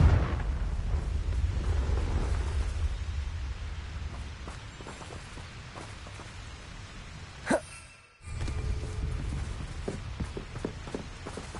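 A Confringo explosive spell goes off in a Harry Potter video game, set in an underground dragon-fighting arena: a single sharp blast rises from a low rumbling background, then the sound briefly cuts to near silence before the din resumes.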